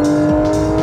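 A Porsche 991 GT3 RS engine screams at high revs on a Targa Trophy drive. It is loud and close, with a sharp, sustained tonal wail and light tire noise underneath, and no voices.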